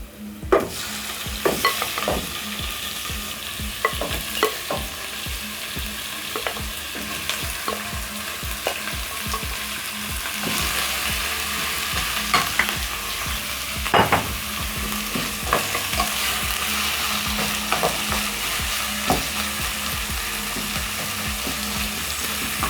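Pork and onions fry in a pan on the stove, a steady close sizzle with occasional stirring scrapes running throughout, no voices.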